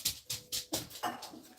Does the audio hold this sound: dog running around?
yes